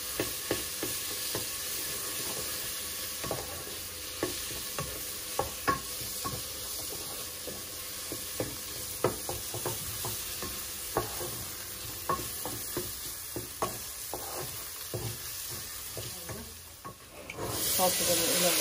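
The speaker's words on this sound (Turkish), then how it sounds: "Şimdi salçamı güzelce kavuracağım." Tomato paste sautéing in a pan, with a soft, steady sizzle and frequent scraping stirs of a utensil against the pan; quiet and close, without speech.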